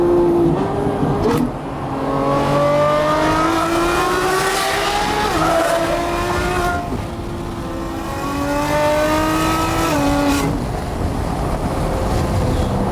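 Lamborghini Revuelto fitted with a Gintani exhaust revs hard and loud, its engine note climbing and falling in repeated sweeping pitch runs over about thirteen seconds, close and continuous with no talking.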